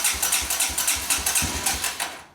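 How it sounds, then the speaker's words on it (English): A dirt bike engine cranks over repeatedly without catching, a rapid rhythmic chugging of roughly a dozen strokes, loud and close, ending as the cranking stops. "it'll probably take a couple cranks and then fire up"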